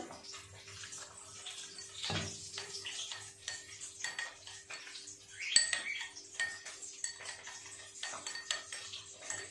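Ingredients are mixed with a little water in a bowl, with quiet wet stirring, scraping and clinks of a utensil against the bowl, plus a sharper knock midway.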